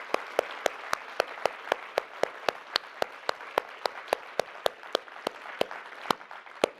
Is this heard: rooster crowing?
no